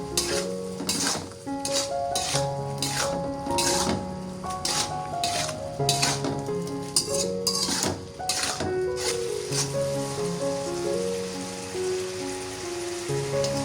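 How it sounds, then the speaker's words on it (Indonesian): Stirring stir-fried egg, tofu, meatballs and napa cabbage in a pan, with irregular scraping and clinking of a utensil against cookware and a steady sizzle beneath, close and continuous. "Aduk merata."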